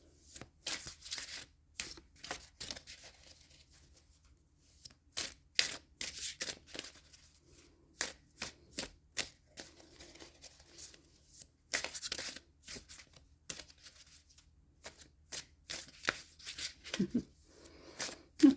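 Oracle cards shuffled by hand in a quiet room, a long run of crisp, rapid riffling bursts and slaps with short pauses between, close and fairly soft.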